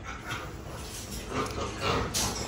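Five-week-old puppies whimper and give small yips in a close, noisy setting, with soft whining that rises and falls in short uneven bursts.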